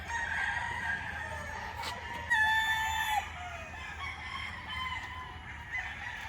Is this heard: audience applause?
no